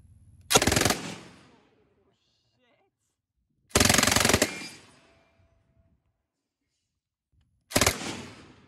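Three loud bursts of automatic gunfire at a shooting range, each a short rapid string of shots that echoes and decays, separated by a few seconds of quiet, with brief talk around them.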